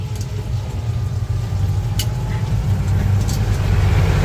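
A tractor travelling on a road passes close by, its steady low engine rumble and road noise continuous and fairly loud throughout, with a voice speaking over it.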